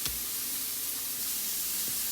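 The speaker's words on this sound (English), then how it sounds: "As the burgers are sizzling away right behind me" Cheeseburger patties sizzle on a grill with a constant, broad hiss that stays even and steady, a faint clank near the start.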